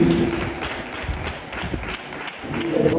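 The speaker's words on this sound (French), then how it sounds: "On applaudit pour lui, hein? On applaudit pour lui." An audience claps for a councillor at a youth event at a community centre, scattered moderate clapping mixed with crowd noise and shuffling, swelling slightly toward the end.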